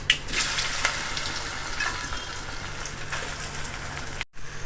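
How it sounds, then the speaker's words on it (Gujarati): Mustard seeds, asafoetida and whole fenugreek tempering in hot oil for a bottle gourd and fenugreek dhokla, giving a steady close crackle and sizzle with scattered pops, heard alone. "તેલમાં આપણે રાઈ નાખી વઘારવા માટે, હિંગ અને મેથી"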